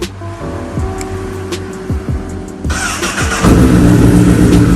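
A Honda CBR 1000cc sport motorcycle engine idles with a few throttle blips, then revs up into a louder, sustained roar near the end, close by.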